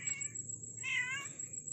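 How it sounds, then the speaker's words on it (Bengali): A kitten meows twice, a short thin call followed by a longer, louder one, close by over faint background noise. "এই সব বিড়াল বাচ্চাগুলো এখানে এসে গিয়েছে আবার"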